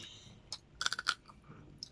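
Crunchy bites into oven-grilled marinated pork, a quick cluster of close, sharp crunches at a mukbang meal, with softer chewing before and after.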